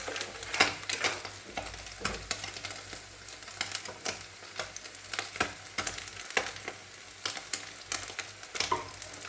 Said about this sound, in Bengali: ততক্ষণ এদিকে মাছটা ভাজা হচ্ছে